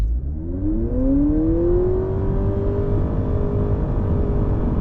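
A 2023 Honda Accord hybrid accelerating hard from a stop in sport mode from inside the cabin, a smooth rising engine drone climbing steadily in pitch without gear changes over loud road and tire roar.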